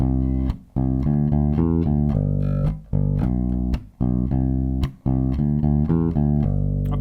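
A bass guitar played fingerstyle close to the bridge pickup, with medium-strength plucks in a steady melodic line of sustained, punchy notes and brief gaps between phrases, heard alone.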